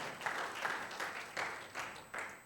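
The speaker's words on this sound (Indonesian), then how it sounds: "Yang setuju, berikan tepuk tangan." Church congregation applauding during a Sunday worship service, faint and distant-sounding, with claps arriving in a loose, regular rhythm.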